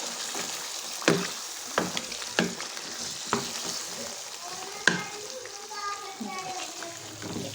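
Chicken frying in ghee over a low flame, a steady soft sizzle broken by several scraping stir strokes and clinks of a spatula against the pan.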